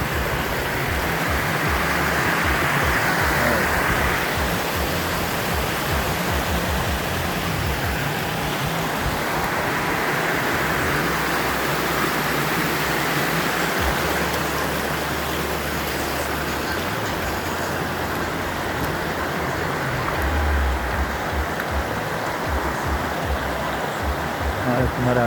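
A waterfall pours with a constant, full-bodied rush of falling water, heard up close and unbroken for the whole stretch.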